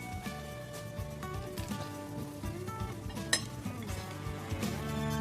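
Boiled carrots, potatoes and peas with raw capsicum and jelly for a Russian salad, tossed together in a mixing bowl: steady close clinking and scraping of utensils against the bowl, continuous with no talk.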